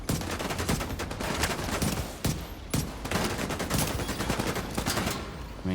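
Dense automatic gunfire from The Division 2 video game, with rapid bursts and overlapping shots continuing almost without pause, a few sharper cracks standing out over a constant din of battle.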